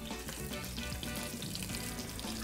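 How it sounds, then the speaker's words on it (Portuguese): Calabresa sausage frying over low heat in a cooking pan, a steady dense sizzle with faint watery crackle throughout, close and continuous with no talk. "Eu já vou para minha panela com a minha calabresa"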